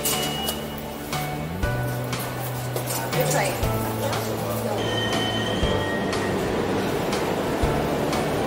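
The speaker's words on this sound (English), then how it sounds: "We're gonna take a train to go see the vessel." A New York City subway train rumbles steadily throughout, with wheel squeals and shifting tonal hums from the motors and brakes. Several faint clicks and clatters come from inside the car.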